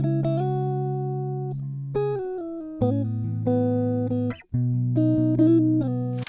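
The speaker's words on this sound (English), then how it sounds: "let's start with a simple chord progression like this" A simple chord progression for an emotional guitar beat: sustained tones that shift between chords every second or so, steady and clear with no talking over them.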